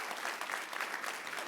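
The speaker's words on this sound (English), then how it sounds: "give them all a big round of applause" An audience at an Army Cyber Institute conference closing session breaks into steady, dense applause, a continuous wash of clapping from many hands with no voices on top.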